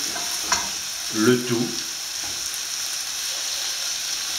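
Food sizzles steadily in a frying pan while fresh garden herbs are stirred in, with a brief scraping stir near the middle and a voice speaking quietly.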